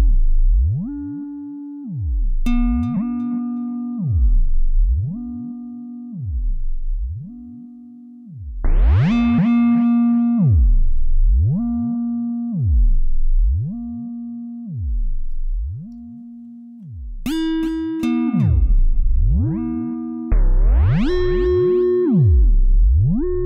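A Logic Pro Sculpture synthesizer tone has its pitch swept up and down by a slowed sine-wave modulator, producing a steady repeating glide pattern of rising and falling notes with occasional bright, buzzy accents, alone without talk.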